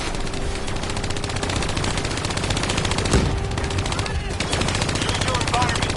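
Sustained rapid automatic fire from a hijacked turret in the Call of Duty Black Ops 3 campaign, loud and continuous, with battle noise and a voice talking over it.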